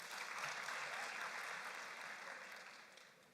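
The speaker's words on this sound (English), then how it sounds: "Another round of applause." Steady audience applause at a university graduation ceremony for IUM, with dense, even clapping from a large crowd filling the hall and slowly tapering toward the end.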